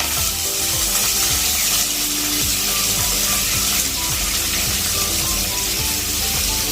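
Onions and green chilies frying steadily in a hot pan, a dense continuous sizzle with occasional stirring scrapes, close and loud, no talking.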